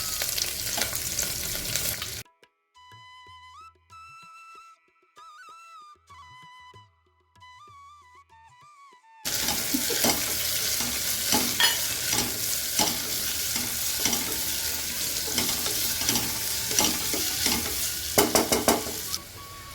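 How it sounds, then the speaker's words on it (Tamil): Steady sizzling as onions sauté and are stirred in a hot pan, loud and continuous, broken by a stretch of quiet melodic music before the frying noise returns. "நறுக்குன ரெண்டு வெங்காயத்தையும் சேர்த்தாச்சு இது கொஞ்சம் நல்லா வதங்கட்டும்"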